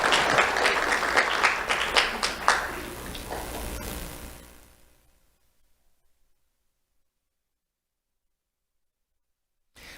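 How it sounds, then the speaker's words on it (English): Loud applause from an audience at a sheriff's office awards ceremony for schoolchildren, a dense burst of clapping that fades away over about five seconds and leaves silence. "Let's have a round of applause for Marley Bormel."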